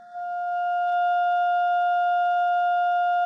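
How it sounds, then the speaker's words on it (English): A pure sine-wave test tone, steady and unwavering, swells in over the first second and then holds at a constant level, loud and clean with no other sound around it. "So now I'm going to turn up the tone to about -20."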